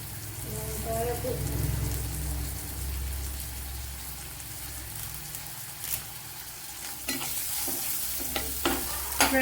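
Snake gourd with curry leaves fries in a pan with a continuous close sizzle, broken by scraping stir strokes and clacks of the spoon against the pan near the end.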